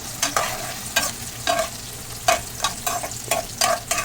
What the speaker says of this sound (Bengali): আর এদিকটায় কষানো হচ্ছে মশলা